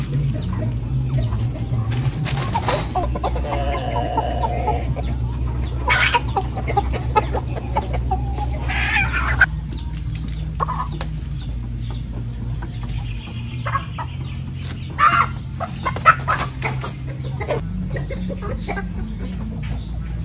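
Chickens cluck steadily in a flock, with scattered sharper calls over a constant low hum, close by and continuous throughout.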